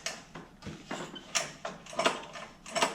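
Repeated pull-start yanks on a small mini bike engine with no chain fitted, a run of ratcheting, whirring pulls in quick succession, close and loud, with no talk.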